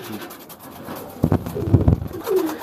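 Pigeons of a Teddy breed coo close by in a few soft, throaty bursts, with faint voices in the background.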